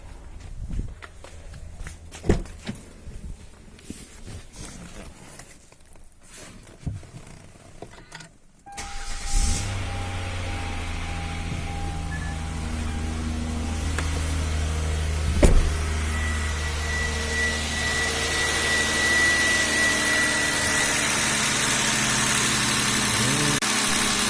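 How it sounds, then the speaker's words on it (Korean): A Lambda 3.3 car engine cranks and catches after some quiet shuffling, then settles into a steady, loud idle that hums on to the end. "시동을 한번 걸어볼게요"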